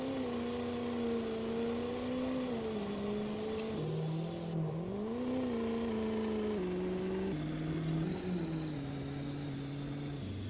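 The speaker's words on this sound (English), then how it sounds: "That sound of that turbo diesel" A turbo diesel truck engine revs up and down in several smooth swells, a steady mid-pitched drone with a faint turbo whine, moderately distant and with no talk.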